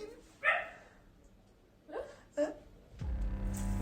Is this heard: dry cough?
no